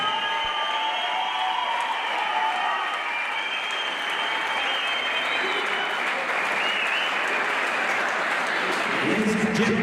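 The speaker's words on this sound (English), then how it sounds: "a huge round of applause for these 2 athletes" Fight night crowd applauds two fighters after a five-round bout in the ring, a loud, sustained wash of clapping mixed with scattered cheers and voices that swells slightly toward the end.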